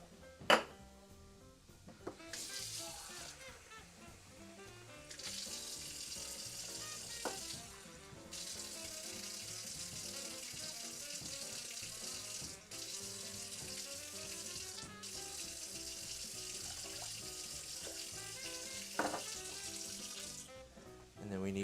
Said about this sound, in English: Cup and a half of water to a boil.